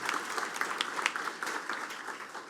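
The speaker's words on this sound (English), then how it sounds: "Please give her another round of applause" An audience at a police academy graduation ceremony gives a round of applause, a moderately distant, even patter of many hands clapping that holds steady for the whole stretch.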